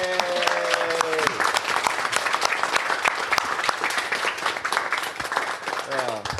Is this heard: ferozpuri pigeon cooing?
no